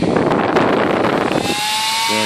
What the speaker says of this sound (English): This Delta Dual really revs up.